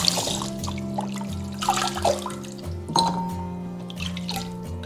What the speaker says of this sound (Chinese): 接着把排骨也清洗一下